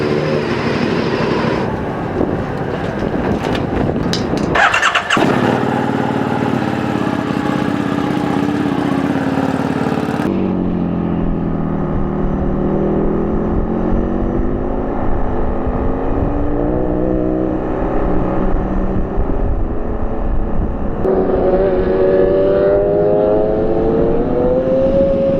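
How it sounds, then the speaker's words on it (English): A 1190RS motorcycle fitted with a GP shift pattern runs on a race track, its engine loud and close throughout, rising and falling in pitch through gear changes and revving up, with no talk. "This is the first time I'll be riding this bike on the track with GP shift"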